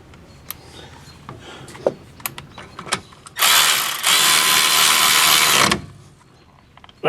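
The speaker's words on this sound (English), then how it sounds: "Now I'll go ahead and bolt it up." A ratchet or power driver bolts up a Hyundai front brake caliper: a few scattered metallic clicks and taps, then a loud continuous whirring burst of about two seconds, close by and without speech.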